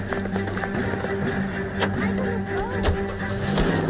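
A car driven in the L.A. Noire video game gives a steady, close engine drone with a humming tone, rising and falling slightly as it moves, with faint background voices.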